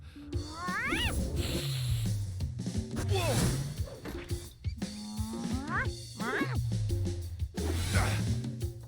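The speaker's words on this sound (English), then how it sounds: "Let's let the cat in." A cat meows loudly and repeatedly at close range, giving several drawn-out, rising and falling cries with short gaps between them, while a person speaks between the meows.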